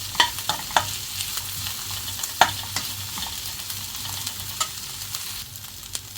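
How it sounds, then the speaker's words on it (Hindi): Cabbage and other vegetables are lightly fried in a pan, giving a steady soft sizzle broken by sharp spatula scrapes and taps against the pan at irregular intervals, with no talking. "और ये है थोड़ा सा कैबेज, और सबको हल्का फ्राई कर लेते हैं।"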